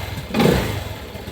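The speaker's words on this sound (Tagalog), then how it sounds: "Okay naman yung tiling nung makina." A Euro Griffin 180i motorcycle engine runs steadily after a fuel pump replacement, a continuous mid-pitched hum with a brief swell in revs near the start, heard close up.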